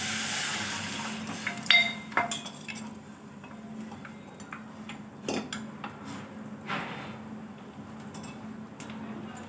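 Boiled drumsticks tipped into a cooking pot after a minute of frying, for a winter curry, bring scattered metallic clinks and clatters of utensils against the pot, fairly quiet, with no talking.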